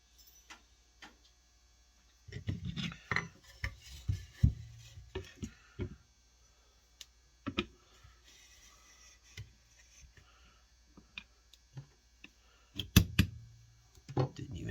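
A punch is tapped against a sear pin in a Springfield XD pistol on a workbench, sparse light metallic clicks and taps scattered irregularly, close and quiet.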